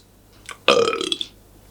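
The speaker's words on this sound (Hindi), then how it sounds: "भाभी जी ये खाली पेट डकारें जब आती है ना बहुत बुरी आती हैं।" A single loud, close burp, coming on an empty stomach, with a short throaty voiced rumble lasting under a second, preceded by a faint breath.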